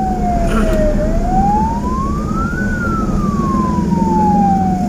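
An Indonesian ambulance escort siren wails loud and continuous, sweeping slowly up and down in pitch, with heavy road and traffic rumble beneath it on a congested highway toward Cileunyi.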